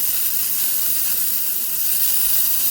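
Broccoli florets hit a pan of hot olive oil over high heat, producing a loud, steady, close hiss of sizzling that holds evenly throughout.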